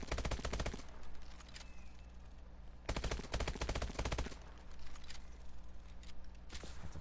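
Call of Duty: Advanced Warfare four-round burst weapon firing in repeated tight bursts, loud rapid cracks clustered in groups with brief pauses between them, close and alone with no talk.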